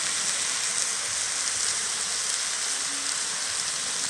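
Okra and shrimp cooked with mustard paste and spices fry in a pan, giving a steady, even sizzling hiss that runs unbroken throughout with no voices.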